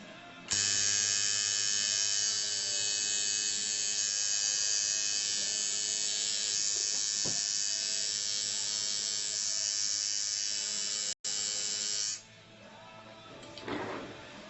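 A tattoo machine buzzes steadily while outlining a tattoo, a loud, close, continuous whine that holds for about twelve seconds, with one brief break and a short handling noise after it stops.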